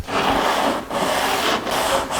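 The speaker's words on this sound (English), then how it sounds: "just move this thing around and sand it" A small-engine cylinder head from a Kohler-powered Toro GT150 garden tractor being sanded on a flat surface, a loud steady rasping scrape in long back-and-forth strokes with brief pauses between them.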